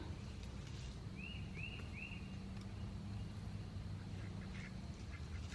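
A short run of three quacks from a duck at moderate distance on an Oklahoma ranch, over a steady low background rumble.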